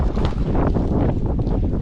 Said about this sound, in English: A lot of wind today, y'all